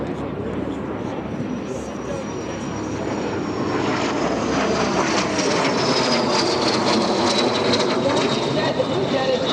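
A jet aircraft passes at a warbird airshow, its engine roar building to a steady loud rush with a sweeping high whine, while an announcer talks over it.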